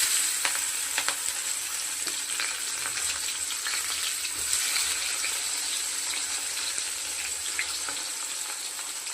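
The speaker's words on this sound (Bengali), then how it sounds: "ফোড়নে দিয়ে দিচ্ছি গোটা জিরে আর দিয়ে দিচ্ছি পেঁয়াজ কুচিগুলো।" Whole cumin seeds and chopped onion frying in hot oil, a steady close sizzle with faint crackles and occasional soft stirring clicks, running unbroken and without speech.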